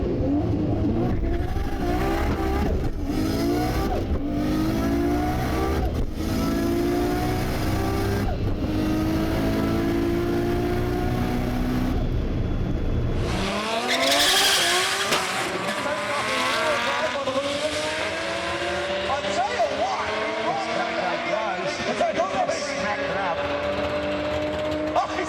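Modified Nissan R32 GT-R launching down a drag strip, a loud, close engine roaring and revving through rising gear pulls, with a sharp shift partway and steady high-pitched engine whine continuing after; some voices mixed in.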